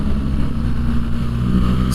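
A 2023 BMW R1300 GS motorcycle engine runs with a deep, steady droning throb, held close and loud at mid revs for a couple of seconds without speech.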